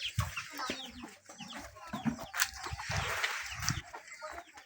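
Farm chickens clucking and squawking busily at close range, a dense overlapping flock with sharp calls rising above a scratchy, restless background.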